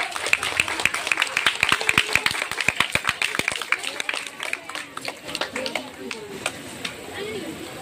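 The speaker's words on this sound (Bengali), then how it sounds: "জোরে হাততালি হোক" An audience claps loudly and rapidly at a Bengal-wide yoga competition, dense close applause that thins toward the end, with voices talking over it.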